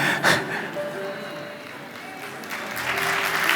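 Scattered applause from a church audience during a sermon, a loose, moderate patter of clapping with a sharper burst at the start and rising again toward the end, no speech over it.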